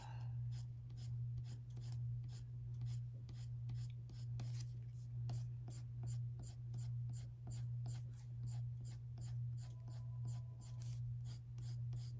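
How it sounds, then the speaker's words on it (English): Colored pencil blending over paper while coloring black hair, a soft rhythmic scratching of repeated short strokes, close and quiet over a steady low hum. "let's do a little blending with the pencil"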